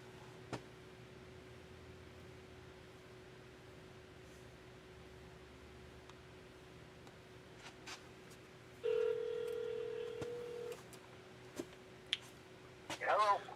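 A telephone line hums faintly with a steady tone, then a louder ring or dial tone sounds for about two seconds, followed by scattered clicks and a short burst of handset noise near the end.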